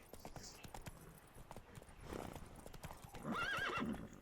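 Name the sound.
horse hooves galloping, from video game Witcher 3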